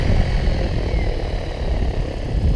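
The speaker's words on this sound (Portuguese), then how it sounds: "Opa, planador pousando." A large radio-controlled model glider comes in to land outdoors, heard as a steady, loud whooshing wind and motor-like roar that stays constant for a couple of seconds with no talking.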